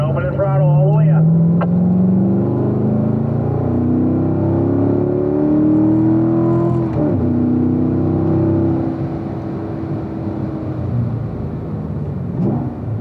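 A race car powers out of a corner on a circuit, its engine note climbing steadily in pitch as the throttle opens fully, loud and close with a continuous roar throughout.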